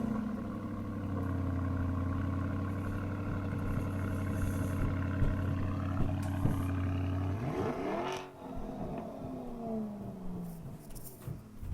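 A yellow Lamborghini engine runs as a steady, deep, loud drone with strong tonal harmonics, then shifts and sweeps in pitch as the revs change near the end, with no talk over it.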